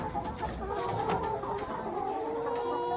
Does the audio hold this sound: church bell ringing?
no